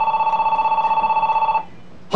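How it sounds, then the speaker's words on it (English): A telephone rings with a rapid, warbling electronic trill, close and clear, then stops abruptly, leaving quiet. "Why is there a phone ringing?"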